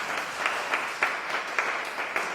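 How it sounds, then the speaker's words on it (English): Audience applause fills a legal night event at a new headquarters, a steady dense wash of clapping with a few louder accents, sustained throughout and without speech. "Give yourselves one more round of applause."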